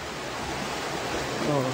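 Strong floodwater current surging through a town in Cotabato, a dense, steady rushing roar with a speaking voice faintly underneath.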